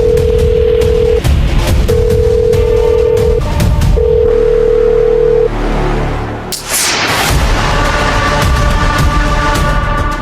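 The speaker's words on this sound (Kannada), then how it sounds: "ಫೋನ್ ರಿಂಗ್ ಆಗ್ತಿದೆ, ರಿಸೀವ್ ಮಾಡ್ತಿಲ್ಲ" A telephone rings in repeated steady tones that go unanswered, loud and close, followed by a sudden burst and a busy, noisy background.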